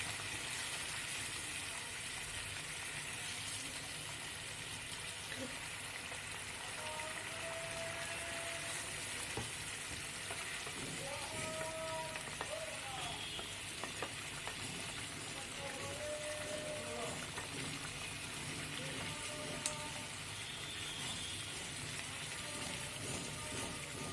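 Spicy Peshwari chicken sizzles and fries steadily in a pan, with a constant hiss and crackle and occasional scraping stirs throughout.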